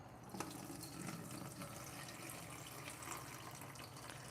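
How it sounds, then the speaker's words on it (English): Boiled potatoes being drained, with water pouring steadily into a sink in a continuous, fairly faint rush and a few small splashes. "Let me just drain this real quick, guys, while we're talking"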